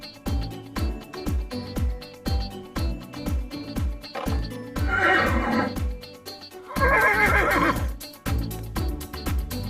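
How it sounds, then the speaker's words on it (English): A horse gives two loud, shaky neighs, the second one higher and stronger, over a pulsing, beat-driven children's music track. "Horse."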